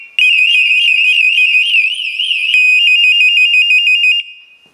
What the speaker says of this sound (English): When one worker's TPASS-3 goes into alarm, the other worker's TPASS-3 is alerted.